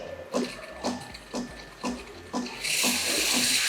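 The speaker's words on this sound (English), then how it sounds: "when you hear this nice steam sound, place the jug" A Sage Barista Pro steam wand purges with a run of rhythmic sputtering bursts, then settles into a loud, steady hiss of steam.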